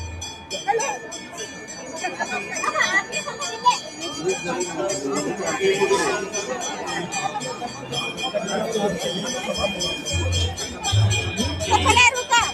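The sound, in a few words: large crowd of pilgrims in Varanasi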